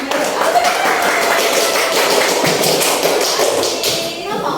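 Children clapping in a classroom, a dense, loud burst of quick hand claps carrying steadily for several seconds, with a few voices mixed in.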